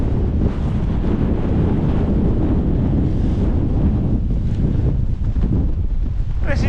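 Strong storm wind gusting at 25 to 30 over mountain tents, with steady loud roaring and buffeting rumble across the microphone throughout, no clear voices.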